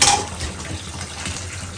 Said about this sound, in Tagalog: Ah, sarap pakinggan ng tubig